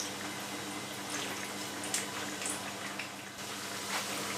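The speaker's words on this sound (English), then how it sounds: "as you can see, it is frying right there" Plantain frying in oil in a hot frying pan gives a steady, close sizzle with small crackles and pops scattered throughout.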